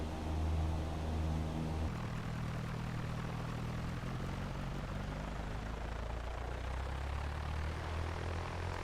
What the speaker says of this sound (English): this is the rolling takeoff without holding the nose